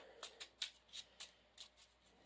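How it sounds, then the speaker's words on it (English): Cards for the Marvel Champions card game are shuffled back into a deck as an obligation card goes in: a series of quiet, quick riffle bursts in an otherwise hushed room, with no talking. "We'll shuffle in our obligation card."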